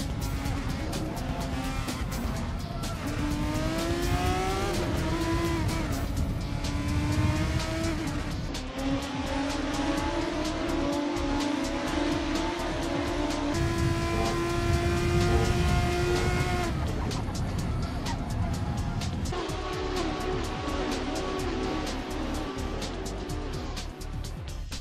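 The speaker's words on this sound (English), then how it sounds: "Check out these open wheelers racing around the Retz Autodrome." Open-wheel race cars lap the Retz Autodrome in a racing sim, engines screaming loud and close with rising and falling revs through gear changes, several cars overlapping continuously throughout.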